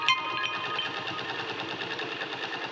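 A sewing machine stitches fabric in reverse on a long frock, a steady close rapid mechanical chatter running the whole time without pause.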